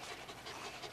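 A dog pants rapidly and steadily at close range, a soft breathy rhythm of quick huffs repeating for under a second with no talking.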